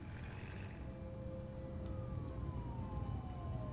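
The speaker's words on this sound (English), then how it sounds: "I'm wondering if the ambulance will get to him." In the city-building game SimCity Cities of Tomorrow, an ambulance siren wails faintly with a slowly falling pitch over a low, steady background rumble of city ambience.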